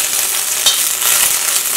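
Chilies frying in hot coconut oil in a pan, giving a steady, loud, close sizzle and crackle with no talking.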